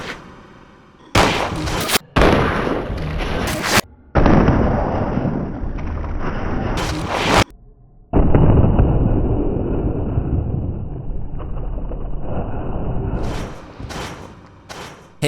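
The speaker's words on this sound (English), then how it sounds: "it's time to do my Magnum tradition, taking this one and only Magnum to a standard enemy's head" Colt Python Magnum revolver in Resident Evil Code: Veronica X firing headshots at a standard enemy, several loud, sharp booming shots with long reverberant decays, separated by brief gaps, no talk.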